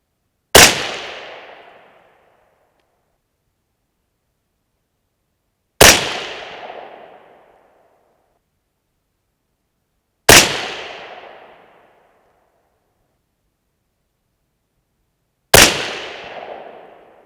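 Four sharp 6.5 Creedmoor rifle shots firing Barnes TTSX ammunition, each a loud crack with a decaying echo, spaced about five seconds apart with silence between.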